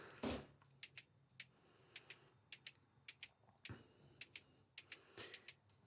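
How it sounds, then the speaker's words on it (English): A sparse percussion loop from a sample pack, made of crisp dry clicky hits in an irregular pattern, fairly quiet, over a faint low hum. "it's another percussion loop, which sounds like this"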